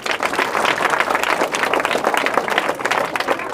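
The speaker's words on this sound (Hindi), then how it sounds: "तालियां तो लगनी चाहिए।" Audience applause in a Hindi classroom or school-book event from Bihar, a dense, steady wash of many hands clapping loudly throughout, with no voice above it.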